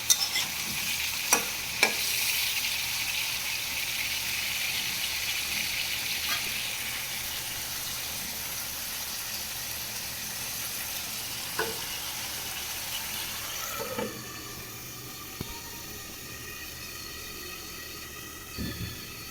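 Vegetables sauté in a hot pan with a continuous crackling sizzle, punctuated by occasional scrapes and knocks of a spatula stirring, loud and close throughout.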